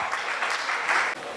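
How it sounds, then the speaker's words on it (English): A short burst of crowd clapping at a business conclave panel in Mumbai, thick and even before cutting off abruptly near the end. "a big round of applause to Dr. Masina"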